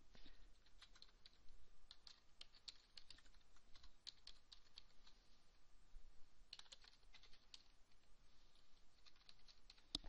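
Quiet, rapid keystrokes on a computer keyboard come in irregular bursts of soft clicks and taps throughout, with no talking.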